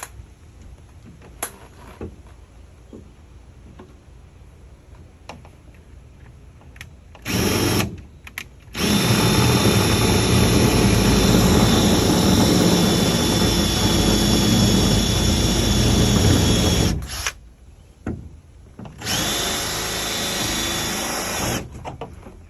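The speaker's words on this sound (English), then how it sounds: "drill those out." A power drill bores out rivets on a Flagstaff High Wall hybrid pop-up camper. A short burst comes first, then a long, loud, sustained whine, a brief pause and a final run, all close and with no talk.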